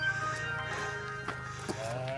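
Sheep on a road near Edale and Jacob's Ladder give faint, scattered bleats over a steady low hum, with a few short knocks and footstep-like taps nearby.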